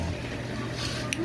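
A motorcycle engine idles after its pulser and battery wiring are hooked up, giving a steady, low, continuous rumble with a faint mechanical hum and a brief click near the end.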